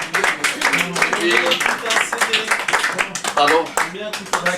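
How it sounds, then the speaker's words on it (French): Audience applauding close by: dense, lively clapping that carries on for several seconds, with voices and scattered cheers mixed in. "on peut l'applaudir aussi"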